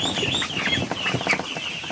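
An agitated Muscovy duck squawks and clucks close by, with rustling and scuffling as it is held, several short calls in quick succession.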